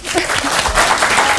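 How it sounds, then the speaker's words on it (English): Audience applause at a comedy crossword game show, a steady dense wash of clapping throughout with a voice talking over it. "Clap, clap, clap."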